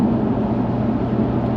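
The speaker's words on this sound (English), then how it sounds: "Wind noise is definitely a lot more apparent in this convertible model" Steady low wind roar inside the cabin of a moving Jaguar XKR convertible (X100, supercharged V8) at about 70 mph, an even, constant rush with a faint engine hum underneath at around 1900 RPM.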